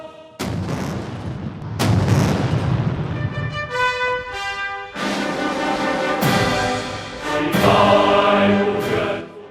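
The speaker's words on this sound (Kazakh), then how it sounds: "Салтанатты шеру 70 рет зеңбіректен аспанға оқ атумен басталды." Several heavy cannon booms from a 70-round artillery salute opening the military parade at Tiananmen Square, Beijing, each a loud sharp blast with a long rolling echo, spaced a couple of seconds apart.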